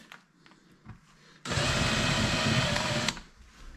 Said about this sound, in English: doesn't take long to drill them out for the most part